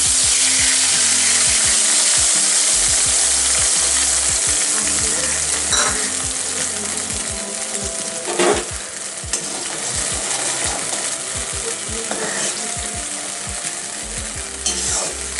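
Katla fish in a ginger and curd gravy sizzles steadily on a low flame, a dense continuous frying hiss with occasional stirring scrapes and clinks, close and alone throughout.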